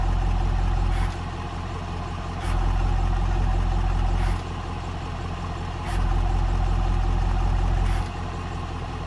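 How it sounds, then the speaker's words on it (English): A car's exhaust note steps up and down as the drive mode is switched between Tour, Sport and Performance, with a steady low rumble that swells louder in repeated stretches, punctuated by brief sharp blips. "you can audibly hear the exhaust changing as you go from Tour, which is the luxury mode, into Sport and Performance"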